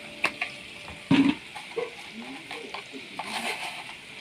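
Rice fried and stirred in a hot pan with salt, giving a soft sizzle with scraping stir strokes, one louder burst near the start, close and fairly quiet.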